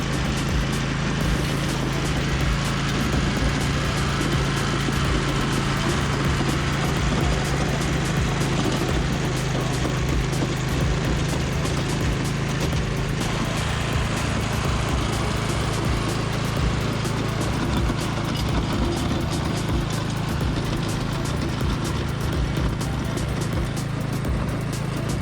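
A garden tiller's small engine drones steadily and loudly for the whole stretch while churning backyard soil, with no pauses and no voices.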